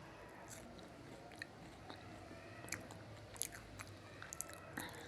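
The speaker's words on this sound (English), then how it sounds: "You can hear the crunch." Crispy fried potato chips for chips mayai crunch faintly in a kitchen, a few sharp, brief crackles scattered over a quiet background with no talking.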